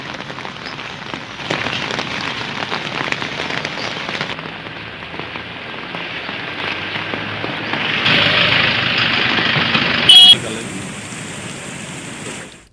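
Steady, continuous rain falls in Poonch, Jammu and Kashmir, a dense close patter on surfaces that swells and eases, with brief louder bursts near the end.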